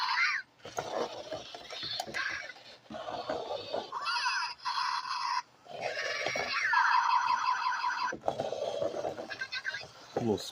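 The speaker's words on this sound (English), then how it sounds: "Little space sounds, that's cute." Kung Zhu battle toy hamsters in Afterburn armor clash in a 2010 Cepia battle arena, giving off bursts of electronic space-style bleeps and whirring mechanical rattles. Loud and busy throughout, broken by a few brief pauses.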